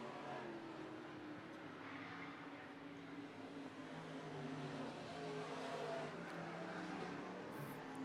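IMCA Modified race cars roar around the USA Raceway track, a distant, continuous engine drone that rises and falls as they come off the final turn.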